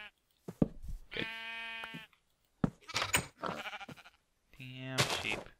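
Video-game sheep in a blocky Minecraft-style world bleat repeatedly in three close, loud bursts with short gaps between them, alone without any talking.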